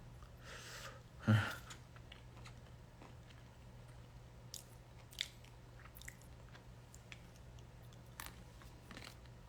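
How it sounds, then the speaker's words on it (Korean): Someone snacking on peanuts: one crisp crunching bite near the start, then only faint, scattered chewing clicks in a quiet room, with no talking. "땅콩이 그렇게 많지 않은데 먹다 보니까 계속 주워 먹게 되네."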